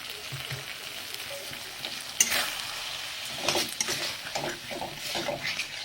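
Eggplant sizzles as it fries in a pan and is stirred, with scraping strokes and a few sharp utensil clinks against the pan over a steady frying hiss.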